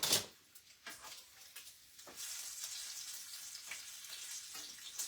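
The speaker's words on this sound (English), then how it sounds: "I'm about to burn this bacon." Bacon frying in a pan for breakfast gives a steady crackling sizzle, close and moderately quiet, with a few sharp pops and small clatters at the start.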